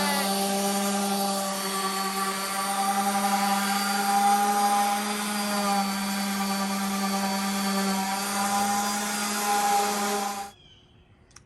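A loud, steady whining drone of a power sander running continuously on salvaged redwood countertop boards, starting at 40 grit, then cutting off abruptly near the end.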